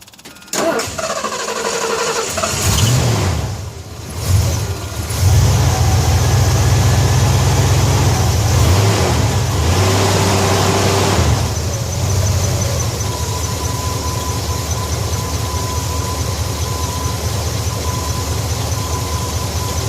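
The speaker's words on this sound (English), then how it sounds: "Okay, so we're going to start the truck." A 1976 Ford F250 truck with a carburetor flooding problem cranks, catches and settles into a steady, loud idle close by, its low rumble holding unbroken to the end with no talk.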